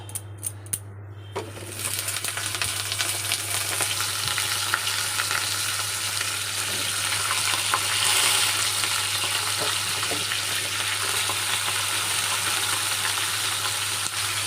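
Pointed gourd and stems frying in a pan beside fried lentil dumplings, a steady dense sizzle that holds loud and even throughout, with a constant low hum underneath and a few faint clinks early on.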